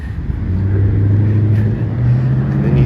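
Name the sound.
car engine sounds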